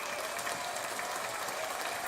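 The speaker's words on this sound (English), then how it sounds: "Let's give a massive round of applause." A round of applause from a crowd, soft and distant, a continuous even patter of clapping that holds at the same low level from start to finish.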